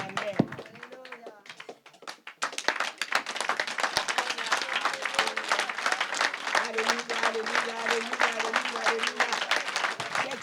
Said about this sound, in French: Moi, j'acclame mon Jésus de cette manière